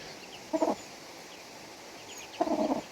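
Two short bursts of hen clucking, a second or so apart, sound softly over a quiet, steady background; a hen with chicks up to two weeks old.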